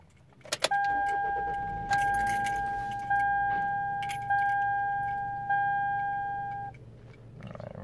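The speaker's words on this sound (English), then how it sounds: "So now I'm just going to shut this vehicle off and restart it and see if we get anything that comes back." Toyota being switched off and back on with the key: keys jingle near the ignition, then a series of repeated dashboard warning chimes sounds in a quiet cabin.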